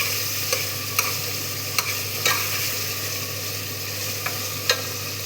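A tomato mixture frying in a pan and stirred now and then, a steady close sizzle with a low background hum and several sharp clicks of a utensil against the pan.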